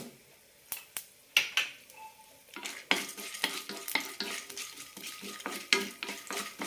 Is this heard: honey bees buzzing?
no